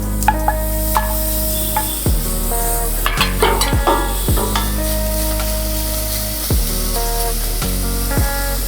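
Chopped large onions sizzle and fry in a pan for a Tamil sambar rice dish, with a steady hiss broken by several sharp stirring scrapes and clatters up close.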